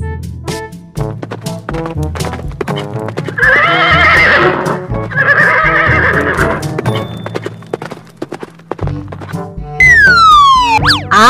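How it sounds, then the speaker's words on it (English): A horse whinnies and neighs loudly several times, with hooves clip-clopping between the calls and a long, descending whinny near the end. "H for horse."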